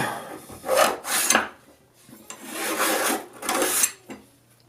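A file rasps along the edge of a card scraper in repeated strokes, about four bursts of scraping with brief pauses between, close and fairly loud with no talking.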